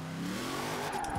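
A Hot Wheels Mustang with a swapped engine and custom transmission accelerates in Forza Horizon 4, its engine note rising steadily and loud for about a second with no talk.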